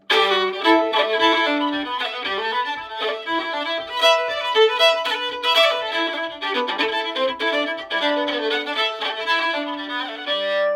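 A fiddle playing an Irish reel with quick, light bow strokes (too much speed, too little weight), producing a bright, airy, slightly scratchy tone in a fast run of short notes, close and alone.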